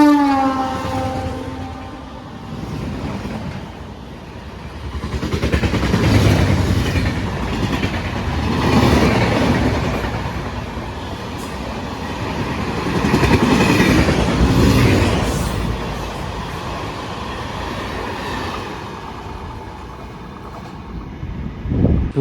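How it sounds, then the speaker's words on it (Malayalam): An AC special train hauled by a WAG9 electric locomotive, running from Mangaluru Central to Charlapalli, passes through Ezhimala railway station. Its horn sounds first, then a loud, sustained rumble and clatter of wheels swells and fades across the pass. "പൂജ്യം 7270 നമ്പർ മംഗലാപുരം സെൻട്രലിൽ നിന്നും ചർലപ്പള്ളിയിലേക്ക് പോകുന്ന ഒരു AC സ്പെഷ്യൽ വണ്ടിയാണ് ഇപ്പം അങ്ങോട്ടേക്ക് പോയത്"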